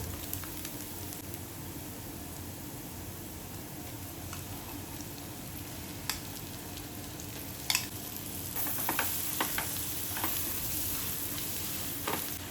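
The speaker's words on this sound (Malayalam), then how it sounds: "നമുക്കിനി ഇതിൻ്റെ അകത്തോട്ട് മിക്സ് ചെയ്ത ചിക്കൻ ചേർത്ത് കൊടുക്കുന്നുണ്ട്." Chicken frying with onions in a pan gives a low, steady sizzle with occasional clicks and taps of a utensil, growing slightly busier toward the end, quiet and close, no speech.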